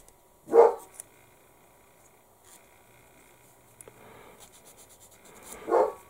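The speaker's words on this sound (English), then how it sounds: "the dog likes barking" Two single dog barks, one early and one near the end, separated by a quiet stretch with faint background noise.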